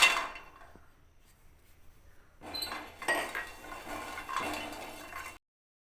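Lentil dumplings (bori) are dry-fried in an oil-free wok on a gas stove. Bursts of rattling, scraping and light clinking come from close by, separated by a quiet pause, with no talking.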